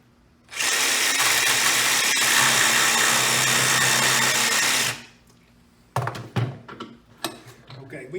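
A jigsaw cuts along pre-marked lines in a window strike prevention setup, a loud steady whine running about four seconds, then stopping, followed by scattered clunks and handling noises.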